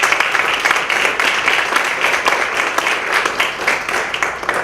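Sustained applause from a lecture audience welcoming journalist and writer Alberto Salcedo Ramos at a talk on narrative journalism; dense, steady clapping fills the room at an even level throughout.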